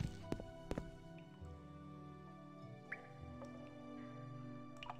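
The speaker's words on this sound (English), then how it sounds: "Water." Water drips inside a cave in the video game Morrowind: a few sharp, close drops near the start, then sparse single plinks over a low, steady cavern ambience.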